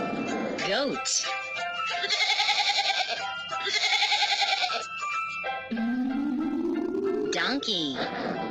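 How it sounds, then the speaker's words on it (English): A goat bleats in two long, wavering cries with a strong pulsing tremor, loud and close, between short musical sounds and a rising tone. "Goat."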